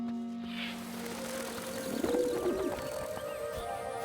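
Cartoon doves coo softly in a quiet scene, a short warbling call near the middle over faint background music.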